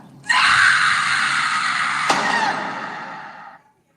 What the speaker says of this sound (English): You didn't gotta scream like that.